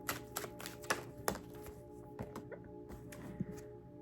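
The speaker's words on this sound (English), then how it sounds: "So I'm gonna do my clarifier shuffles." A tarot card deck is shuffled by hand, giving quick, crisp card taps and riffling flicks in an irregular rhythm, close and fairly quiet.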